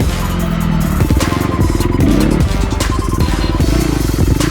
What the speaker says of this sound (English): I could play around with sliding the rear wheel in a rather messy fashion